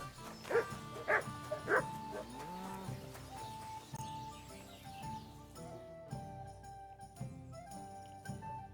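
Dog barking in the medieval video game Kingdom Come: Deliverance II: three loud, close barks in quick succession, then fainter whimpering and soft yips over quiet background music.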